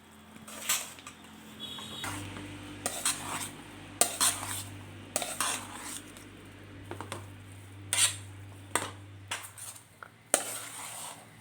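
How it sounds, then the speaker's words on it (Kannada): Rice being stirred into tomato gojju in a pan to make tomato chitranna, with repeated scraping and clinks of a spoon against the metal pan over a low steady hum, close and moderately loud, with no talking. "ಈಗ ರೈಸು ಗೊಜ್ಜು ಚೆನ್ನಾಗಿ ಮಿಕ್ಸ್ ಮಾಡ್ಕೊಳ್ಳೋಣ"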